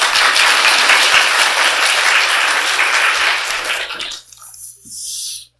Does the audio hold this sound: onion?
no